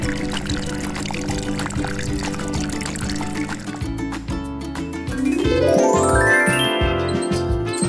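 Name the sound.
water being poured to water plants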